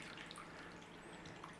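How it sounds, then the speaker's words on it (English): Water poured from a tap or jug over homemade paneer in a storage container, a steady close trickling and splashing wash that runs unbroken with no talking. "All we need to do now is cover it in water"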